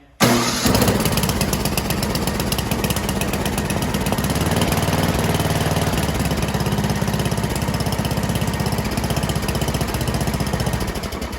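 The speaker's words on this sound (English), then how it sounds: "we're gonna go ahead and try to fire this up real quick, and I'm gonna turn it back off again" A Yard Man snow thrower engine, started on choke in about 50-degree weather, catches after a brief quiet moment and then runs loud and steady at close range for the rest of the clip, with no talking.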